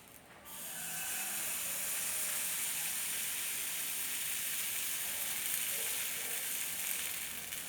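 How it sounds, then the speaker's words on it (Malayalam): Soft dosa batter hits a hot tawa and sizzles, a loud broad hiss swelling up within the first second and holding steady to the end, with no voices. "അതിലേക്ക് നമ്മൾക്ക് നല്ല സോഫ്റ്റായ ദോശ മാവ് ഒഴിച്ചു കൊടുക്കണം"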